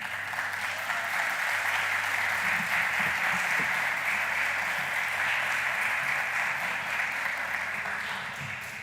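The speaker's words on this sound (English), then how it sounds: "Please join us congratulating Christian in a loving round of applause." Warm applause from an audience at a public speaking event, an even, sustained roar of clapping hands over a faint low hum, easing off slightly at the end.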